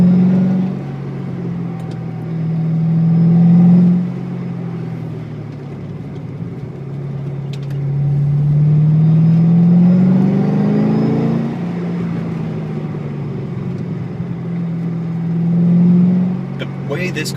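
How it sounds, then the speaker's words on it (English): A Corvette Z06's large-displacement engine accelerates repeatedly, each pull a loud, rising drone through the gears before easing off, recorded from inside the car. "You wouldn't expect such a large displacement motor to be so free revving."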